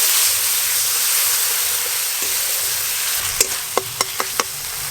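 Ground chilli, turmeric and salt fry in a pan as a little water goes in for a village-style fish-head chorchori, giving a steady loud hiss, then several sharp spoon taps against the pan near the end.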